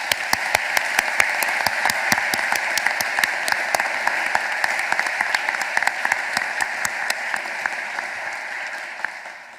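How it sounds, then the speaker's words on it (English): Audience at a graduation ceremony clapping for the team, a dense steady round of many hands that runs without pause and tapers slightly toward the end, with no voices over it. "I'm going to give you a big clap"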